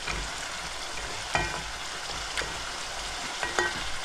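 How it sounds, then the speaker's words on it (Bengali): Chopped onion and spices, including turmeric and cumin powder, fry in a pan while being stirred for a sour rhubarb dish. A soft continuous sizzle runs throughout, broken by a few light scraping knocks. "গোল্ডেন ব্রাউন করে নিয়ে পেঁয়াজ দিয়ে এটাকে এভাবে গালিয়ে নিচ্ছি"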